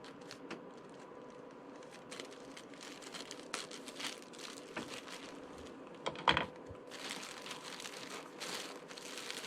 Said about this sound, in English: Let me cut this so that I can tape this bag back.